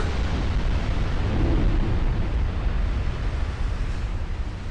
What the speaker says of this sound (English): now I'm exploding